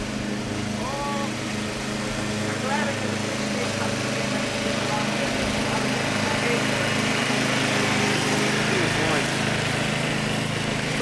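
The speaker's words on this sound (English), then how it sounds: "Too much noise from the lawnmower." A lawn mower runs steadily throughout at moderate level, its engine drone continuous in a residential street, with faint background voices.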